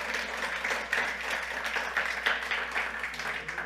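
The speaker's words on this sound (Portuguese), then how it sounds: "Será que alguém pode dar um aplauso ao Senhor pela graça de Jesus?" A church congregation claps in a brief, uneven patter of applause during a sermon, fairly faint and slightly distant, with no talk over it.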